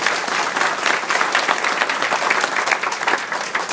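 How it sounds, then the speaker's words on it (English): Dense, steady applause from an audience at an alumni endowment fund launch honouring a donor, loud and continuous throughout with no pauses. "please join me in giving our donor a big round of applause"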